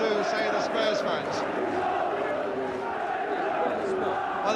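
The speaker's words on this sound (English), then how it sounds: "There was applause coming out of the Kop" A large football crowd in the Kop end at Anfield during Liverpool against Tottenham Hotspur in 1984/85, its steady applause and general roar carrying from a distance as a continuous, even wash of noise.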